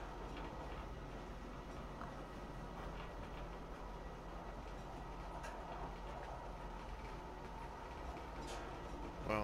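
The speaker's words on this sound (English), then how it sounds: "Wow, this train's taking forever." A train carries a passenger toward Lorville in the Star Citizen video game, giving a low, even rumble with faint rhythmic clicks throughout, quiet and steady with no talking.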